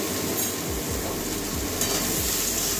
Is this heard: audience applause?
no